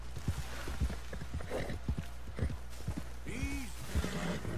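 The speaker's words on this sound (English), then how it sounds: "Easy horse, easy." Horse hooves clip-clopping at a steady walking rhythm in the video game Red Dead Redemption 2, fairly close, with a brief whinny and a voice speaking between the hoofbeats.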